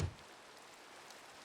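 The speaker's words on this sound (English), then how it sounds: "I think it started raining." Steady rain falls in the Minecraft video game as a soft, even hiss of fine drops, faint and continuous, with no voices over it.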